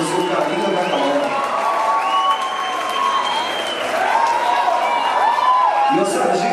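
An audience applauds and cheers after a zouk dance performance at a Zouk Carioca event in Interlagos, a loud sustained crowd roar with clapping and a voice talking over it.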